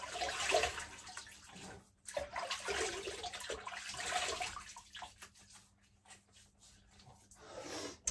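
Running water splashes unevenly and close by as someone wets their face before shaving, with gushing bursts, brief pauses, and faint handling noises, without speech.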